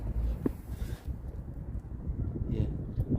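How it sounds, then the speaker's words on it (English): Outdoor wind gusting across a microphone beside a Vauxhall Mokka 1.7 CDTi 4x4 raised for an oil and filter change, a low rumbling buffet that rises and falls, with a brief soft voice mixed in. "It's a bit windy."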